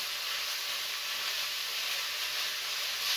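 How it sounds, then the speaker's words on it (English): Minced beef hitting a pan at full heat with rendered streaky bacon fat, a loud, dense, unbroken sizzle and hiss held close and steady throughout. "turn the heat up to full inferno and in with the beef"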